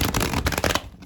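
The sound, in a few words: shuffling tarot cards with a bridge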